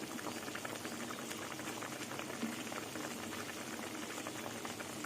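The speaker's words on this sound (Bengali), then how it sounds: "আলু সেদ্ধ হয়ে গেছে এবার কিছুক্ষণ ফুটবে" A curry with potatoes boils steadily in a pot, giving a continuous dense bubbling that stays soft and even throughout, with no voices.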